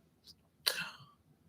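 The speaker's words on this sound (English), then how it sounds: "I feel like I'm about to sneeze." A single short, sharp sneeze bursts out of a quiet room, faint overall, with a small breath just before it.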